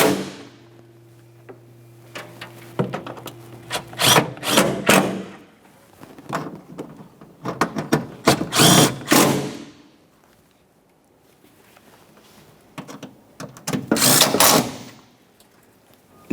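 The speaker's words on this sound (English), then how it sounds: "Let's tighten those 10mm bolts." Clicks, taps and short metallic ratchet bursts from tightening 10mm bolts on the upper intake plenum of a 2011-2020 Toyota Sienna 3.5L V6, arriving in intermittent clusters close by, with a faint steady hum underneath and no speech.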